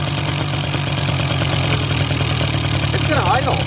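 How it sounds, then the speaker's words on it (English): A long-neglected Suzuki LT50 quad that sat outside for years idles steadily and close up with a low, even engine drone throughout, and a faint voice comes in near the end. "Is it gonna idle?"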